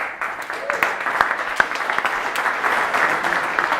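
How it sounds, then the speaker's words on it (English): Audience at a business talk applauding to welcome a guest, brisk crowd clapping with a few sharp, close claps standing out above the dense, steady wash. "Can we give a quick round of applause"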